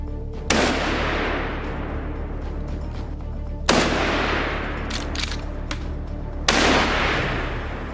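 Three loud gunshots from hunters firing at wild boars, spaced a few seconds apart, each a sharp crack followed by a long rolling echo, with no voices.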